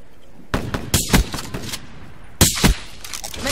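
Pump-action shotgun blasts in Black Ops 3, two loud sharp booms roughly two seconds apart, with a softer report and mechanical clatter between them.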